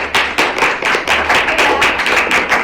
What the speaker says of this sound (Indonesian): Beri aplaus untuk Mbak Imran ya.